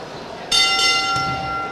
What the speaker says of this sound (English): So we'll wait the bell. Here we are,